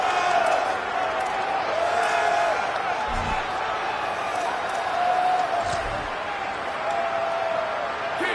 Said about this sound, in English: The crowd electric, trying to help Tech on this third down.